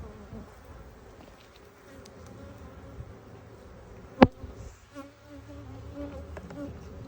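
Honey bees buzzing during a beginner's first hive inspection, a faint, steady hum near the frames with one sharp click partway through and no speech.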